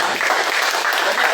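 A church congregation claps together in sustained, dense applause that fills the whole moment, loud and steady throughout.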